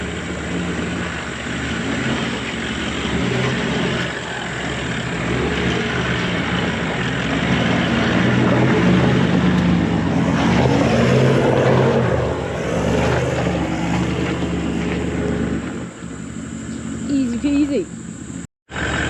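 A Toyota Land Cruiser 79 series with its rear locker engaged grinds up a steep 4x4 track at Ormeau, its engine a steady loud drone that swells mid-climb before cutting out abruptly near the end.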